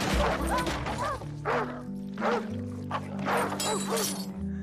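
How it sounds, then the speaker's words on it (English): A dog behind a fence barks aggressively at a passerby, with several sharp barks rising over a dense, loud musical or ambient background throughout. "a dog starts barking aggressively at him"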